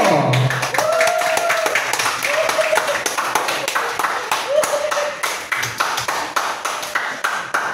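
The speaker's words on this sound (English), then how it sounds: "Please join me in giving a warm round of applause to Mr. Limerick Gong." Audience applause for a speaker at a school symposium, a steady run of fairly close, sharp claps lasting several seconds, with a few ringing pings heard among them.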